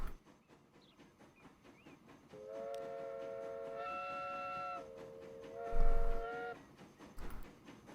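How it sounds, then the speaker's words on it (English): A small train departs in the video game Transport Fever 2, sounding a clear tonal whistle in two long blasts over a quiet rail rumble, with a short burst of louder noise near the end. "let's hope that this little train with its small amount of wagons can make us some money"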